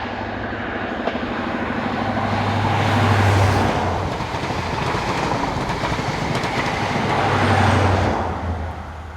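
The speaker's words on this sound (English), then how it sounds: "The network management train was also out and about this day, doing its thing, on a working from Reading to Salisbury." The network management train working from Reading to Salisbury rumbles past on a British line, a loud sustained roar of wheels and engine swelling twice as it goes by, close and continuous.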